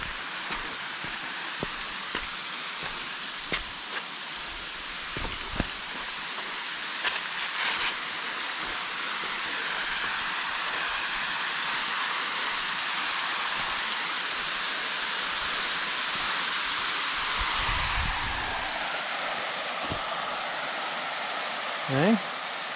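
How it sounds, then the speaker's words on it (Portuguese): A small, low-volume waterfall on the Janela do Céu trail at Ibitipoca rushes in a steady, close, even roar while people talk over it now and then. "Olha a cachoeirinha aí"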